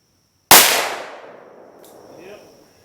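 One sharp, loud shot from a Ruger GP100 .357 Magnum revolver with a six-inch barrel cracks at close range, its echo decaying over about two seconds, followed by a faint metallic ring.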